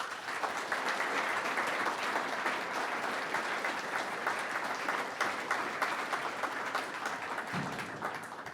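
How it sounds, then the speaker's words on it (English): Sustained applause from an audience at a public lecture on zoning and cities, a dense steady wash of many clapping hands that stays even throughout and eases slightly at the end. "Let's give him a round of applause."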